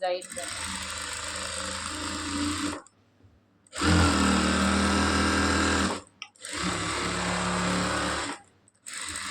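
Sewing machine stitching the side seam of a blouse sleeve: three steady, loud, close runs of continuous whirring stitching, separated by short pauses.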